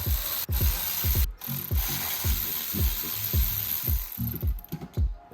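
A T30 Torx driver ratchets in quick repeated clicks while removing wastegate fasteners from a Nissan Z turbo, close and fairly loud, in short bursts with brief pauses between them.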